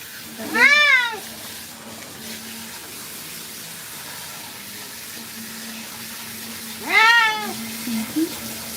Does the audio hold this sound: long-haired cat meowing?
yes